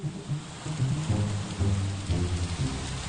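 Heavy rain falls at night in the Minecraft video game, a steady wash of rain with low rumbling swells like distant thunder, with no talking.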